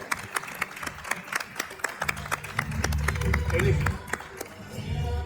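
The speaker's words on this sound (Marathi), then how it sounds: "एकदा जोरदार टाळ्या" An audience at a Paithani prize game show claps in a scattered, rhythmic patter, building to a denser burst of applause mixed with crowd chatter and a speaking voice.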